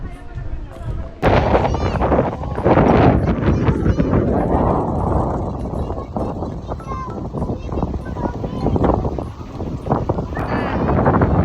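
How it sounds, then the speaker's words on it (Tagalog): Strong wind gusting across an open waterfront park with crashing waves, a loud steady roar with buffeting bursts throughout, under chatter from a crowd and a nearby voice. "napaka-windy niya."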